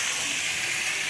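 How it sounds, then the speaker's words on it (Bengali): Chorchori, a Bengali mixed vegetable dish, sizzles steadily in the pan, a continuous bright hissing fry with no pauses or voices over a short stretch. "তো মা দেখো চচ্চড়িটা রান্না করছে"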